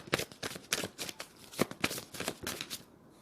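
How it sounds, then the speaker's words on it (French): Tarot cards riffle and slap as the deck is shuffled and handled before a card is drawn, a quick series of crisp papery flicks up close, with no voice. "Je tire une dernière carte."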